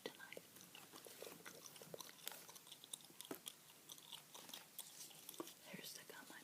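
Wrigley's Doublemint chewing gum chewed close to the mic, with steady wet smacking and clicking throughout, soft and intimate with faint whispery breath.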